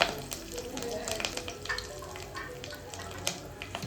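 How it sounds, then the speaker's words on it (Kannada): Curry leaves hitting hot oil for a tomato egg bhurji, a steady close sizzle and crackle of frying with scattered sharp pops, continuous and fairly loud throughout. "ಫಸ್ಟಿಗೆ ಕರಿಬೇವಿನ ಸೊಪ್ಪು ಹಾಕೋತಾ ಇದ್ದೀನಿ"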